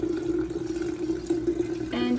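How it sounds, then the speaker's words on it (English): Water poured steadily over loose tea leaves in a strainer for sun tea, a continuous close trickling and splashing that grows brighter near the end. "So we're gonna just pour it in, making sure we're getting the tea wet in the process"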